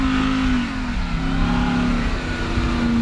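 A Ram TRX pickup's engine revs loudly and close up, a deep growl whose pitch dips and rises again over a few seconds, heard alone.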